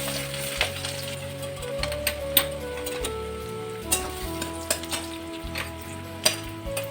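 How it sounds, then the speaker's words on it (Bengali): Chopped garlic fries in hot oil for a cauliflower and potato dish, a steady close sizzle with crackling pops and occasional spoon clinks. "প্রথমে আমি দিয়ে দিচ্ছি রসুন কুচি"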